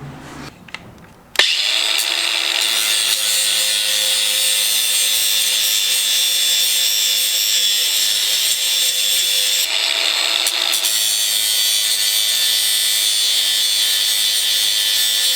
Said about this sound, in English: just a little bit of grinding and this thing fits now